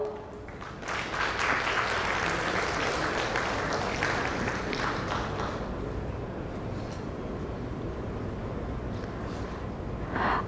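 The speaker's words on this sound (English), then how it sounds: "Please welcome with a huge round of applause" Sustained applause from a conference audience at an insurance summit and awards event, a dense steady clatter of many hands filling the hall for about ten seconds.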